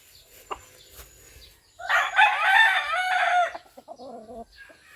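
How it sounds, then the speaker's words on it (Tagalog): A rooster crows loudly and close by for about two seconds, followed by softer clucking from chickens. "May siyang manok diri."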